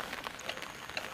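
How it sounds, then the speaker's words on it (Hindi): Steady rain patters on a forest campsite in India during a group camping trip, a close, even hiss of drops with a few sharper taps. "अभी बारिश थोड़ा तेज़ होगी, बीच में हल्की होगी तो फिर से तेज़ होगी बारिश"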